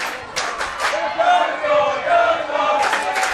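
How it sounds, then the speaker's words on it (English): Spectators in the stands at a high school ultimate frisbee gold medal game, Burnaby North versus Delta, cheer and call out for one team in a steady, sustained roar, with a commentator's voice mixed in. "You hear the crowd in the stands calling in favor of your opponent."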